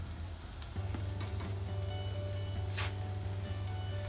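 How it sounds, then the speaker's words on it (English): Jamaican jerk pork skewers with the fat left on sizzle over high heat on a grill, a faint, steady crackling hiss with a low hum underneath and a few small pops. "Once all placed on high, close the grill and let cook."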